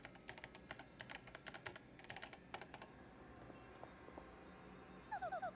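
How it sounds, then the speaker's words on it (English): Rapid clicking of keyboard keys from Paper Mario: The Thousand-Year Door, fairly faint, in irregular bursts over quiet background game audio, ending with a short series of bright chiming tones. "Use the keyboard in front of you."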